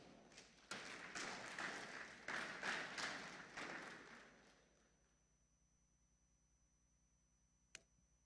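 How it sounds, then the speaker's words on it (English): Conference audience applauding at a tech event in Africa, a dense burst of clapping lasting about four seconds, then dying away to near silence with one sharp click near the end. "Please, can we give him a big round of applause?"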